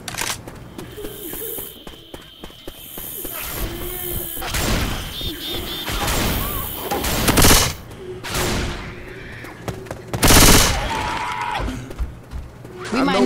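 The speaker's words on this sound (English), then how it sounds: "Y'all wanna stop shooting me?" Gunfire in Left 4 Dead 2 co-op play, loud bursts of rapid automatic shots and individual blasts coming in clusters, mixed with shouting voices and game sounds.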